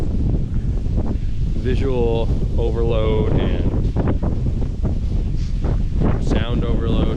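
An insane wind storm batters a marsh during a solo mallard duck hunt, a loud continuous roar of wind on the microphone filling the whole stretch while someone talks over it.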